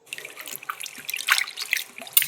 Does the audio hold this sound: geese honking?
no